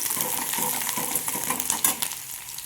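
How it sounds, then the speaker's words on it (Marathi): Tomato, potato and onion fry in a pan, a close sizzle with soft stirring scrapes and light metallic clinks over a short stretch, with no talking. "जे काही आपण हे टॅमॅटो, बटाटो आणि कांदा टाकणार आहोत ना, तर ते छान असं तळून घ्यायचं याच्यामध्ये"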